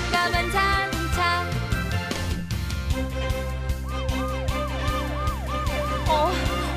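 Police car siren from a children's Tayo the Little Bus cartoon, a fast warbling wail that enters partway through over a bright, loud musical backing.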